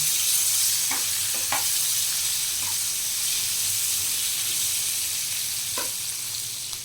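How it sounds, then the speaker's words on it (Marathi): Oil sizzles and crackles steadily as gram-flour-stuffed chillies fry in tempering oil in a pan, with a few light clicks of stirring. "फोडणीसारखी फोडणी केली आहे आणि मिरच्या आता परतायला सुरुवात केली आहे।"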